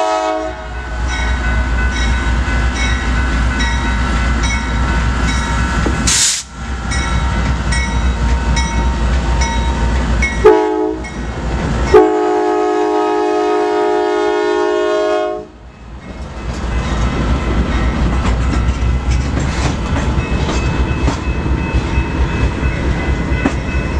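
A modern, technologically advanced train rolls past on a main line in Galesburg, Illinois, with a continuous heavy rumble and clatter, a sharp burst partway through and long loud horn blasts, close and without speech.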